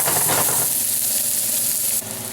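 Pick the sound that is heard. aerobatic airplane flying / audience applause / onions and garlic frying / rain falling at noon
onions and garlic frying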